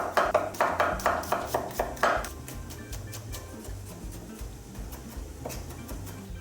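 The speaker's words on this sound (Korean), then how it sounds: "마늘은 꼭지 부분 제거해 주시고요. 다져 주시면 됩니다." A knife minces trimmed garlic cloves on a cutting board: a quick, even run of about ten sharp chops, then sparser scattered taps, close and clear with no talk.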